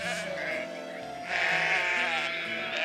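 Ewes and lambs on a Georgian sheep farm bleat close and loud, with overlapping wavering calls running continuously and one cry swelling louder midway, with no talking.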